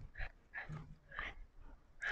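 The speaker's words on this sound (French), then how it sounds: "Doudou, j'ai mon chien avec." A pet dog gives a few soft whimpers and snuffling breaths, close by and quiet, in short bursts spaced through a few seconds.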